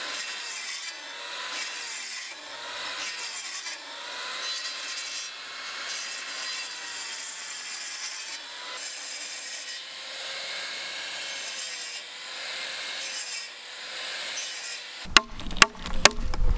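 Steady back-and-forth rasping of a hand saw cutting a wooden roof beam at an angle, regular strokes for most of the stretch, ending in a few sharp knocks and clatter.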